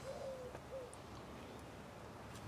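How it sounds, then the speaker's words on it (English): An owl hoots twice, one drawn-out call followed by a shorter one, carrying faintly outdoors against a quiet background hiss, with no talking. "Can you hear that owl?"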